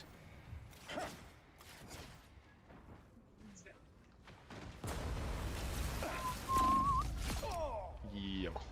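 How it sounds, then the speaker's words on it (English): A fireworks effect in the Marvel Rivals video game bursts with a rumble of whooshing blasts and rising whistles in the second half, loud and dense, after a stretch of game speech and sparse effects. "Anyone say fireworks?"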